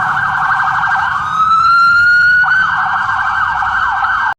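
A cartoon emergency vehicle's siren wails loud and close, a continuous electronic tone sweeping up and down in a repeating cycle before cutting off abruptly at the end.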